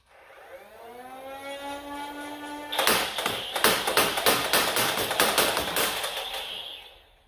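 A Nerf Star Wars Rogue One Captain Cassian blaster, loaded with 12 darts, spins up with a rising motor whine, then fires a rapid string of sharp clacking shots over the steady flywheel whir, close by with no talk.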